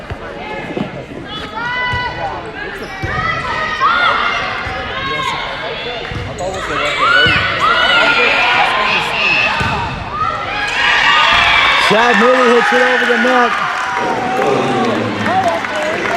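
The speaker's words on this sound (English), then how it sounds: "Crowds are cheering." A crowd cheering and shouting in a gym during a high school volleyball match, swelling in loud bursts with a ball being struck, while a commentator talks over the noise.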